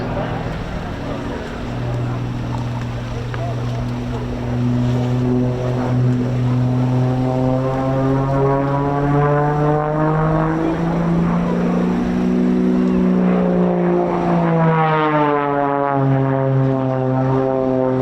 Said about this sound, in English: Melanie brings the EXRTA 330 into effectively a hover